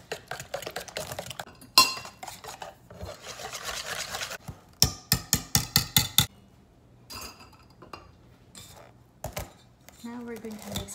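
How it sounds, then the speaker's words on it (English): A small bar whisk mixing butter in a bowl for banana bread, with quick rhythmic scraping and tapping strokes in close bursts, interspersed with clinks of utensils and pauses. "Got a small bar whisk. I love this. Makes things easy. And we're going to mix it with our"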